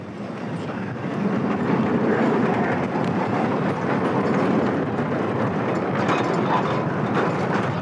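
A train rolls steadily through the Mugeln rail yard on the Oschatz to Mugeln line, its dense rumble and rattling wagons swelling after the first second and holding loud and close to the end.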